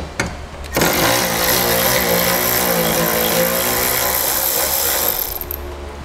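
A socket wrench on a 2007 GMC Sierra grille ratchets steadily and close up, a continuous rapid clicking that runs for several seconds with no talk.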